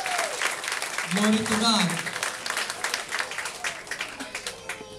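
A seated audience applauds at a Catholic Life and the Spirit Seminar on the Baptism of the Holy Spirit, with steady, dense clapping throughout. Someone speaks and calls out over the ovation.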